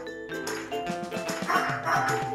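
A pet cockatoo imitates a dog, letting out a quick series of harsh, barking calls, moderately loud and close.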